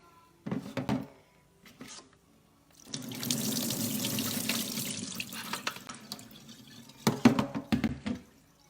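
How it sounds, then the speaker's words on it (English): Water poured straight into a kitchen sink while making spreadable butter, a few seconds of steady splashing and pouring after some clunks and handling noises, followed by more knocks and clatter nearby, no talk. "I'm just going to do it straight into my sink"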